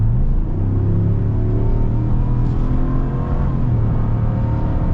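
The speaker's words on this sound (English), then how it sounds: "But you can still hear a bit of the Hemi, which is nice." A 2024 Ram 1500 Laramie Night Edition with its Hemi V8 accelerating, heard from inside the cab as a low, steady engine rumble and drone under road noise, moderately loud and continuous with no voices.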